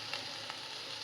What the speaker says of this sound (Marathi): या भाज्या ज्या आहेत ना त्या हाय फ्लेमवर आपल्याला रोस्ट करायच्या आहेत.